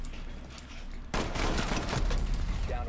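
Hip-fired gunfire in Rainbow Six Siege erupts as a sudden rapid burst of loud, close shots that continues to the end of the clip.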